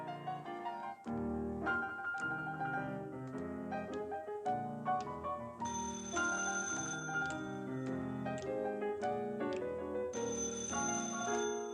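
Repeated telephone ringtone chimes from a telephone used as a cue in a staged comedy performance, sounding in bursts of melodic ringing with short pauses between, moderately loud and without talk.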